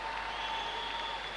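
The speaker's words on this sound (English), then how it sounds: "It's good to see the Canadian crowd applauding them like that." Canadian crowd applauding ice dancers at the 2001 World Championships final group free dance, a steady, dense wash of clapping filling the arena throughout.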